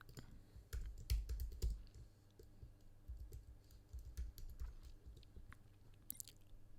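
Soft, irregular clicking of computer keys in quick bursts, fairly close and quiet, with no talking.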